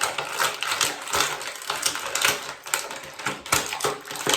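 Plastic joints of a 19cm articulated Dragon Ball SS Bardock action figure being posed, a dense run of close, loud clicking and ratcheting with fast, irregular bursts throughout.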